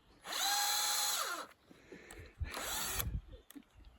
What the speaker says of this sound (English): trying to drill a hole with the drill running backwards